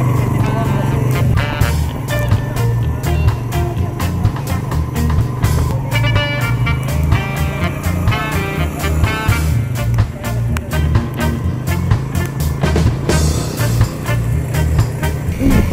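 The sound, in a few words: motorized tricycle riding in Boracay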